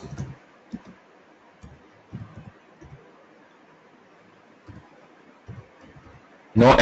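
Computer keyboard typing, sparse irregular clicks of individual keystrokes, close and quiet, ending in a sudden louder burst of noise.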